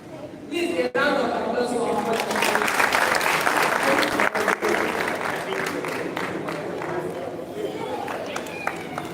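A school audience breaks into sustained applause, a loud, dense roar of clapping that rises abruptly and carries on with a little crowd noise and shuffling underneath.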